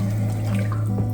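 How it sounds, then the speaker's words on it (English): Liquid poured over salmon fillets in a container for smoking prep, a short close splashing pour over a steady low hum. "You just pour it over."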